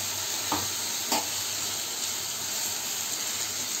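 Rui fish curry with papaya and masala frying in a pan, a steady soft sizzle with a couple of brief stirring scrapes, heard alone with no talking.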